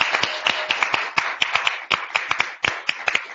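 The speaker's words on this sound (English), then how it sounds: "Let's give our guest a great round of applause." Studio audience applause for a guest on an interview program, fairly sparse and uneven, with individual claps standing out as sharp, close, irregular hits rather than a dense roar.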